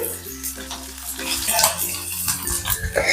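Onion sizzling as it fries in hot oil with cumin and green chillies in a kadhai for spicy pithla, a steady close crackle with stirring and scraping noises throughout.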